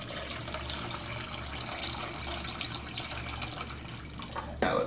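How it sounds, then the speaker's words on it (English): Water poured into a container at the start of a steel wool chemistry demonstration, a steady close splashing and trickling that runs the whole time, with a brief louder clatter near the end. "Here's the water. Pour this thing in."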